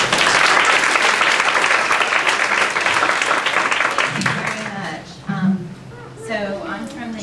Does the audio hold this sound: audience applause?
yes